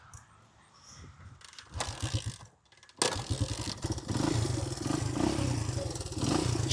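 A Honda 185S police motorcycle fires up after a few faint mechanical clatters, then settles into a loud, close, steady idle with some roughness.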